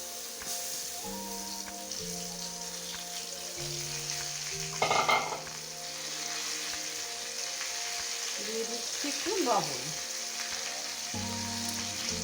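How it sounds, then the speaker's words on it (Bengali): Dhokar dalna ingredients frying in hot oil, a continuous sizzle with a few louder stirring scrapes, a steady tonal hum running underneath. "এটা গরম হয়ে গেছে এখন আমি দিয়ে দিচ্ছি এখন দিয়ে অনাবরত নাড়তে থাকবো"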